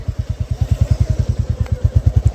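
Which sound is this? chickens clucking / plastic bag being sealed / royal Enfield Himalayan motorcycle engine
royal Enfield Himalayan motorcycle engine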